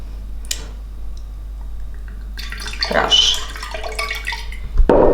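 Vinegar poured from a larger container into a small dispensing bottle: a low constant hum under short bursts of trickling liquid and light glassy clinks, louder near the end.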